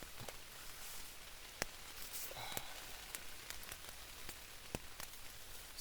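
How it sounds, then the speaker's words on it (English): Rain falls steadily on trees and a camping tent in a constant soft patter, broken by occasional sharper drips striking the fabric nearby. "It's raining pretty good."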